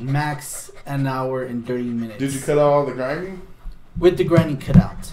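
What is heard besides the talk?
No everyday noise stands out behind the speech.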